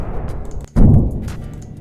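A single heavy impact lands after a brief lull, a deep thud with a rough, rumbling tail that fades out.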